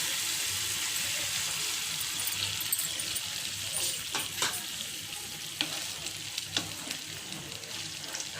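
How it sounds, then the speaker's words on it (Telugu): A cornflour-and-water mixture is poured into a hot pan for Gobi Manchurian, and a steady loud sizzle and bubbling hiss fill the scene, with a few clinks of stirring toward the end. "మనం ముందుగా కలిపి పెట్టుకున్నాం కదా కార్న్ఫ్లోర్లో వాటరు, ఆ మిశ్రమాన్ని పోసుకోవాలి"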